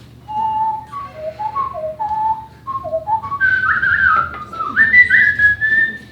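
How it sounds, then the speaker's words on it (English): A person whistles a short, lively melody of clear, distinct notes that climbs into a higher sustained phrase near the end, solo and close, with faint room background. "It means I'm an alarmingly good whistler."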